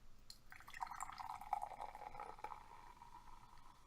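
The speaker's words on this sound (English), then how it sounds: "That was a full-on pouring sound effect." Energy drink poured from a can into a glass, a steady trickling, splashing stream lasting a few seconds at close range, fairly quiet, with no talk.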